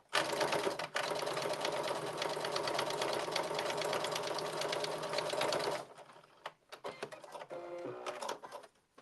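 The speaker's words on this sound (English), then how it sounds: "Now you're going to stitch the opening closed" A sewing machine stitches a blazer's opening closed with a steady, loud run of rapid stitching for about six seconds, then stops and gives a few short bursts alone.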